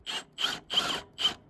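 Ratchet wrench loosening an 18 mm bolt on a 2014 Nissan Altima 2.5 engine with a rough idle: four short bursts of rapid clicking, close and fairly loud, with brief pauses between strokes.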